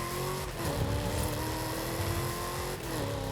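A car in Forza Horizon 5 drives with a steady engine drone and higher whine, holding a constant pitch with small shifts, loud and continuous, no speech.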